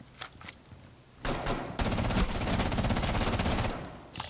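Rapid gunfire traded in Rainbow Six Siege: scattered single shots, then a loud burst and a sustained stretch of fast automatic fire that tapers off near the end.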